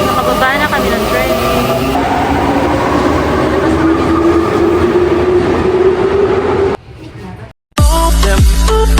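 Train in Japan rumbling along the rails with a steady, loud, close roar, then a brief drop and a sharp change of sound near the end.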